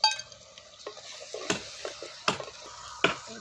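Vathal kuzhambu ingredients being stirred and sautéed in a pan, a soft sizzle under repeated scrapes and clinks of a spoon against the metal, several sharp knocks spaced a second or so apart, close and fairly quiet.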